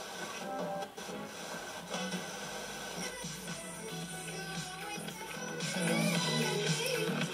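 FM broadcast received on a Panasonic GX5II RF-1405L shortwave radio, playing steadily at moderate level with dense, continuous program audio and faint hiss, growing slightly louder near the end.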